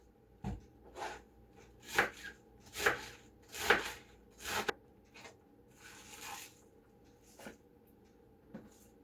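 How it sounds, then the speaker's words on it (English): Half a cabbage chopped with a knife on a cutting board: a series of sharp, close chops in an uneven rhythm, a few softer cuts and rustles trailing off, with no talking. "I'm going to get this other half chopped up"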